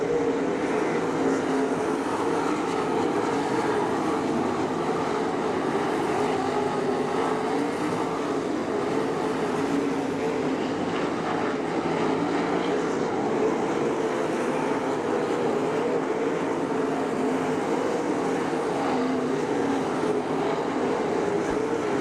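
Race cars circle the dirt oval at Attica Raceway Park during a night racing program, a constant loud engine roar that drones on without pause through the whole stretch, with no voices heard.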